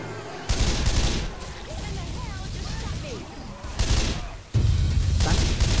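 Gunfire in the zombie shooter Left 4 Dead 2 comes in loud bursts of rapid shots, separated by a quieter stretch of game noise, with one final sustained volley.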